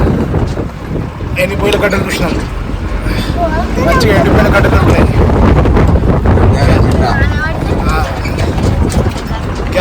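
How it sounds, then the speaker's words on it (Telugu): Strong wind roars and buffets the microphone outdoors beside a wood-fire stove in Kurnool, a loud continuous rumble with voices talking underneath. "ఫుల్ గాలిలో వంట చేస్తున్నాము"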